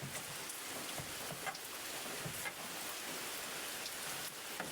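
Steady rain falls and patters on water and surfaces, a dense continuous hiss with scattered louder drops and no voices.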